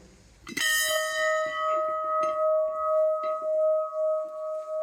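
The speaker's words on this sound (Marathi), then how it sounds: "इथे घंटा देखील आहे आपण ही घंटा वाजूया" A metal temple bell hangs under the entrance dome of a Datta temple and is struck once. It gives a loud, bright clang, and a long ringing tone follows that fades slowly, with faint taps in the background.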